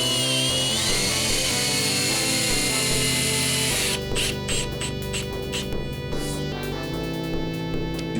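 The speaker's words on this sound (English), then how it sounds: "I'm putting some screws in just to hold the side panels together." A power drill drives screws into the side panels of a scratch-built Electrocoin Goliath arcade cabinet. A steady, loud motor whine runs first, then gives way to a buzzing drive with rapid ticking and tapping.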